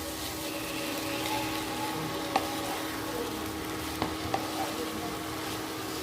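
Prawns fry in oil in a pan for a Bengali malai curry, giving an even close-up sizzle with a few sharp clicks of a utensil.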